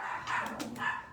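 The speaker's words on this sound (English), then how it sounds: "I have a new puppy too. So she's a little bit talkative, very talkative." A young female puppy barks a few quick, sharp yips close by in a quiet indoor room, with no one talking.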